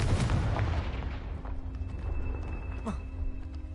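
A Confringo blasting spell goes off in the Hogwarts video game: a heavy booming blast that decays into rumbling debris, with a sharper crack near the end.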